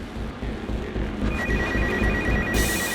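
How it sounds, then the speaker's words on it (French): A telephone mounted on its holder above a bed rings with a steady electronic trill, clear and fairly close over a low room background, in an audio drama. "Le téléphone accroché à son support au-dessus du lit sonne."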